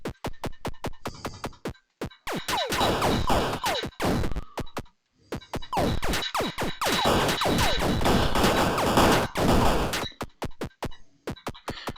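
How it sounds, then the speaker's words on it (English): Video game NPCs blowing up with an old-style explosion effect, giving bursts of crackling, gunfire-like blasts in two long dense runs, separated and framed by sharp rhythmic clicks, with no talk. "they have the old explosion effect"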